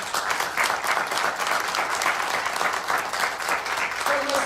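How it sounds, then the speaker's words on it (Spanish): A church congregation bursts into steady applause for the King, a dense, even wash of many hands clapping together throughout, fairly loud and continuous. "Denle palmas al Rey."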